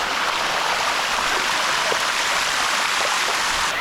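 Water rushes steadily over a Thai waterfall, a dense, continuous broadband roar with no pauses, loud and close throughout.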